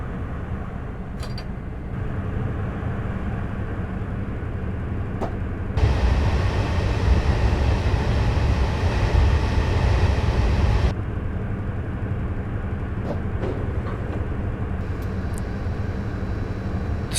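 An HST diesel train in Train Simulator 2015 on the Bristol to Exeter route pulls away and accelerates, a steady loud engine roar that swells louder for several seconds, then falls back to a lower drone with faint clicks.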